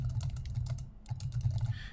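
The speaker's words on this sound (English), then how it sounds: "once you add text, you can just start typing" Quick bursts of keystrokes on a computer keyboard while adding text in a website builder, with a steady clatter that pauses briefly midway before resuming.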